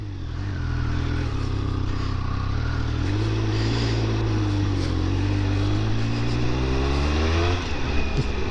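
A 2022 Triumph Speed Triple 1200 RR motorcycle on the move, its three-cylinder engine droning steadily and close, rising and falling in pitch as the throttle shifts, with constant wind rush over the whole ride and no talk.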